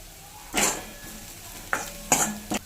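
Spices being stirred in a pan on low heat for katachi amti, with a few distinct scraping strokes and clinks of a spoon against the pan over a faint background.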